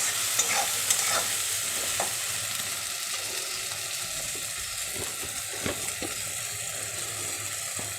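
Ingredients fry in a pan for dal makhni, a continuous sizzle broken by repeated spatula scrapes and knocks against the pan, with no talking.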